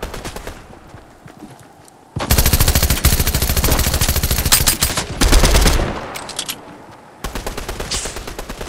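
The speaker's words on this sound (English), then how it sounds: "Grenade launcher." Grenade launcher fire in the Fortnite video game comes as loud, dense bursts of rapid repeated shots, pausing briefly between volleys, with booming low thuds underneath.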